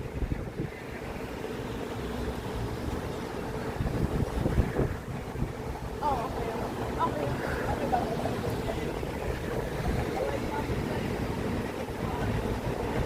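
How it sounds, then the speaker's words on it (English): Wind gusts across a Toronto city street, heard as a steady rumbling buffet against the microphone, with faint traffic and street noise underneath and no clear talk. "It's a wind issue. It's been windy."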